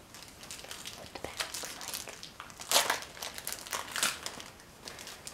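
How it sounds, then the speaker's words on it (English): Foil wrapper of a 1990 Score baseball card pack crinkles and crackles as it is torn open, with a busy run of close rustling and two louder crunching bursts partway through. "This is a beautiful pack, and we're going to get right to it and open it up"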